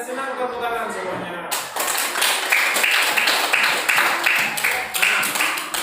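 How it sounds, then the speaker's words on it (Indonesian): A classroom of children claps hands together, a dense, rapid patter of many small hands that starts abruptly and keeps going steadily, with chatter and voices mixed in underneath. "Kalau kalian senang, tepuk tangan semuanya."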